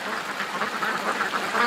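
Ducks on a pond quack in a quick, continuous chatter at a moderate distance in the morning, with no voices over them.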